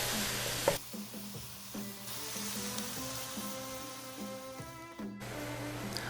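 Mongolian beef cooks in a hot pan, giving a continuous close sizzle and crackle with faint tonal notes running beneath, and no one speaks.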